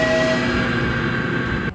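A train in a cartoon car-racing game, heard as a loud, steady rumble with a sustained horn-like tone that runs for under two seconds and then cuts off.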